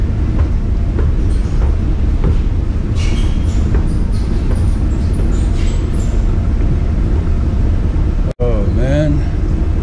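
Loud, steady rumble and hum inside a moving Guangzhou APM metro train, with a continuous roar of the carriage and brief sounds near the end, as someone talks over it.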